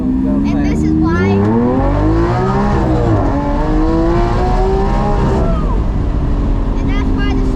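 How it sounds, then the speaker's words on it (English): A car engine revs hard and climbs in pitch as the car accelerates fast, close and loud throughout, with the drone dipping briefly and then surging again; speech is likely mixed in under the engine. "We're gonna step on the gas."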